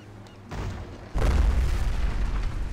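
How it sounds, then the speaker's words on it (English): A cannon is fired at the player in the online game ArcheAge: one heavy, deep boom lands after a quieter lead-in, then a loud, sustained low rumble rolls on to the end with no talking. "They shot a cannon at me."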